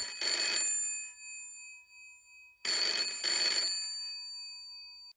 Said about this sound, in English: Phone is about to ring.